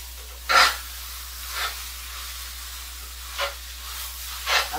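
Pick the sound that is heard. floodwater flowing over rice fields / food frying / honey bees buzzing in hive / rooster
food frying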